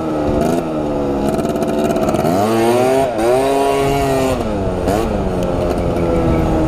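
A cheap stunt scooter's small engine revs hard and continuously up close during wheelie practice, its pitch rising and falling as the throttle is worked, loud and steady throughout with no talking.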